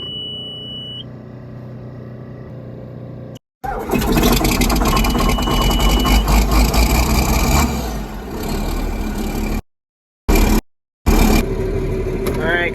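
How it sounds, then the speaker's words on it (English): A heavy John Deere 4450 tractor engine cranks and catches, then settles into a loud, rumbling idle close by; the sound cuts out briefly twice near the end. "so the tractor should start right up."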